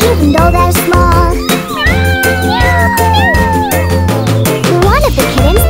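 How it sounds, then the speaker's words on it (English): Kittens meow in an animated children's nursery rhyme song, their cries blended into continuous loud music with a singing voice throughout. "They meow so loud even though they're small."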